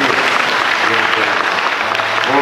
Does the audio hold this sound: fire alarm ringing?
no